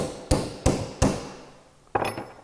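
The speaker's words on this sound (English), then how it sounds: "Get out our hammer, get on that locking ring," Hammer blows on a coilover's threaded locking ring, tightening it on a Pedders USA Supercar suspension assembly: three sharp metallic strikes evenly spaced, then a pause and a fourth strike, close and loud with ringing decay.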